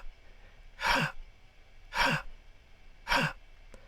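Three sharp breathy gasps in an edited voice recording, spaced about a second apart, each a brief airy rush over a quiet background hiss with no words spoken.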